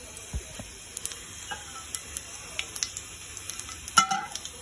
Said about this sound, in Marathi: आता काही फोडणीची तयारी, जिरा ॲड करत आहे पहिले मी